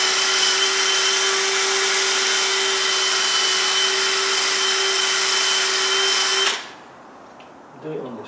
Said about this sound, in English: I've just got to do a bit more polishing off